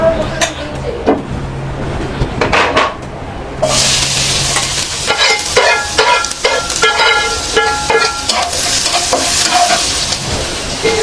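Potatoes frying in a pan and being stirred, with steady sizzling that swells louder partway through and scraping spatula strokes on top; a voice speaks in the background.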